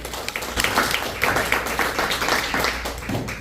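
An audience at a mission conference lecture gives a round of applause for the speaker, a lively spread of individual claps with uneven bursts over low hall noise.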